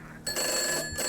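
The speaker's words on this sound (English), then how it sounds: "My phone ringing." A telephone rings in the video game Gray Dawn, a steady electronic bell tone that begins abruptly and continues close and fairly loud, with a brief dip near the end.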